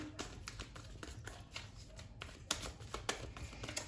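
Cards being shuffled in quick riffling bursts, soft and close, with no talking.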